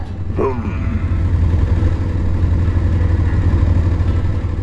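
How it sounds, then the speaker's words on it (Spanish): A boxer-engine motorcycle rumbles close by with a deep, throbbing idle, low and loud, briefly rising in revs near the start. "cómo suena el motor boxer"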